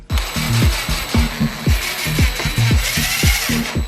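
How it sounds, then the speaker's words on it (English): A power drill whirs in repeated short bursts, each trailing off, driving self-tapping screws into a Jeep TJ, over a steady mechanical hum with clicks between runs. "Now all we have to do is put in the 3 self-tapping screws."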